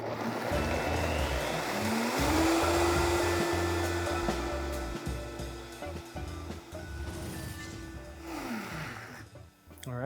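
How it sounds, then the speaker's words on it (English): A blender whirs peanut ginger sauce smooth, its motor ramping up to a loud, steady high whine and holding there before spinning down, with a voice speaking briefly over the motor. "I'm gonna blend that up"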